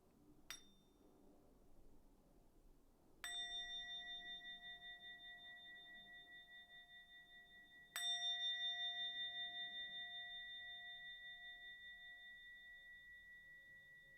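A meditation bell rings clearly three times, first with a brief soft strike and then with two fuller strikes. Each leaves a long, pure, slowly fading hum in a quiet room.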